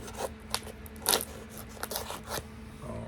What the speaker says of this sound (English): You can hear the cut tape cut through the package.